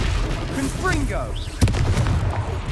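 Confringo fire spell explodes in a Hogwarts video game: a sharp blast lands mid-clip over ongoing battle noise, with character voices talking before and after it.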